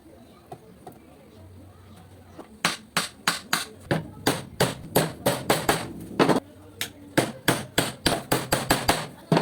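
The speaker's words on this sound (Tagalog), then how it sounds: "Nilagyan ko muna ng tag-isang pako." Nails are hammered into a wooden support glued in place, starting with a few light taps, then a long run of sharp, loud, evenly paced hammer blows close by, with brief pauses between strikes.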